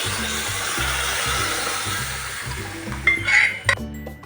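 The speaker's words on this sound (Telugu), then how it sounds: "మన పప్పు తాలింపులో జాగ్రత్తగా వేసుకోండి" Cooked bottle gourd dal is poured into a sizzling tempering of spices and red chilli powder, a steady hiss over a low pulsing hum, then a sharp burst of crackle and metallic clinks near the end, with no voices.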